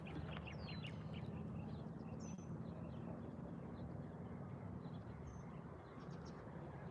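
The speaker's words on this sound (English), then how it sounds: "Here are all the birds singing for us this morning." Morning birdsong outdoors, with scattered high chirps and short whistled calls over a steady low rumble of distant traffic or wind.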